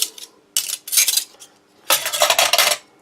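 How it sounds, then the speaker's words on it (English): Metal cutlery from a knife, fork and spoon set clatters and scrapes while breaking up a French army emergency food ration, in three loud bursts of clinking and crunching with brief pauses between them, no voices. "I'll be using the German well engineered knife, fork, spoon set for this. Break that up."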